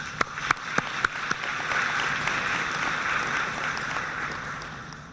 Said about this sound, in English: I would like you to give yourselves a round of applause